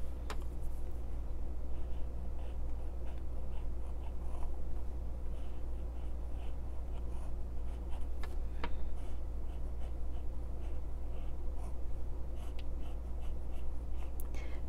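A pen scratches steadily across the paper of a Hobonichi Techo A6 journal while outlining, close and quiet, with soft continuous strokes and occasional small taps over a low background hum.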